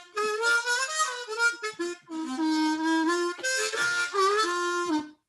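A diatonic harmonica plays a run of sustained, reedy chord-like notes with short breaks between phrases, close and clear, with no talking.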